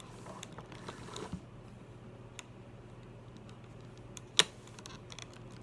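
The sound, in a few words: clicking of a Doll Chateau Matthew doll body joint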